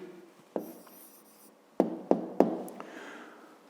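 A pen or pencil writes down a math answer on paper, soft scratching strokes with several sharp taps as marks are made, quiet and close.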